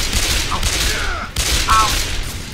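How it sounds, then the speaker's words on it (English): Shotgun blasts in Left 4 Dead 2 boom out as two or three broad, heavy bursts over constant game noise, with faint tonal effects between shots. "The heck did at least hit that guy with a shotgun from so far?"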